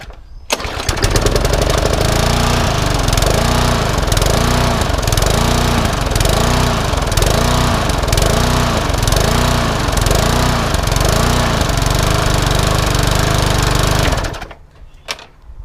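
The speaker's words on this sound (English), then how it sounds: "Let's try and fire this lawnmower up." A Hayter 41 petrol lawnmower, suspected of having a dirty tank and carburettor, starts with a jolt and runs loudly up close, its engine note hunting in a steady rhythmic surge before cutting off near the end.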